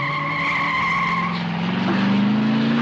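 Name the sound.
car arriving with tires skidding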